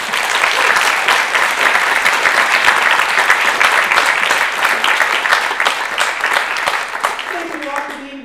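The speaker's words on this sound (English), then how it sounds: "will you join me in a big round of lion applause?" A large audience breaks into loud, sustained applause at a leadership talk, dense clapping that stays strong before tapering off near the end as a voice begins.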